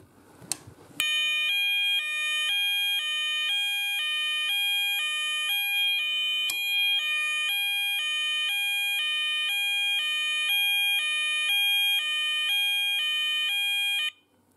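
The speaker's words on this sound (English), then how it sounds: "So that was the C-tec evacuation tone." C-tec Activ Base Sounder fire evacuation alarm sounding a loud, steady electronic tone that alternates in a regular two-pitch pattern. It runs continuously for about thirteen seconds and then cuts off abruptly.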